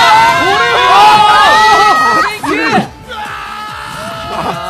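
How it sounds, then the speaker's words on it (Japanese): A crowd at an Ultra Street Fighter IV tournament in Tokyo roars with loud cheers, shouts and clapping. The sound swells, briefly dips, then settles into a lower murmur of voices. "会場からも拍手が沸き起こっています"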